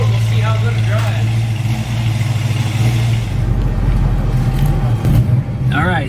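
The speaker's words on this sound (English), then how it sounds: "We're gonna take this beautiful little Mustang for a spin." A restored 1965 Ford Mustang coupe engine runs with a steady, deep, low rumble and slight swells in revs. A person talks over it.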